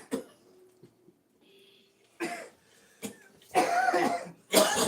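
Several harsh coughs, some in quick pairs, growing louder toward the end, with quiet gaps and a faint hum between them.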